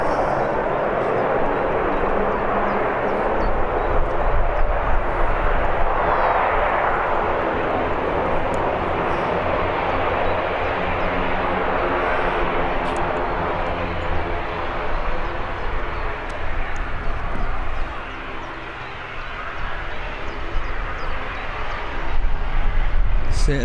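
Airliner taxiing at Birmingham Airport, a loud sustained jet engine roar with broad rushing noise, fairly close and steady throughout, with someone talking over it.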